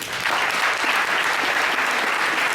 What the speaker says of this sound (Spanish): Nos despedimos con este aplauso